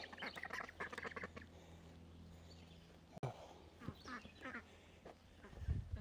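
Ducks at a sanctuary quacking in short bursts nearby, with a person talking softly among them and a brief knock midway.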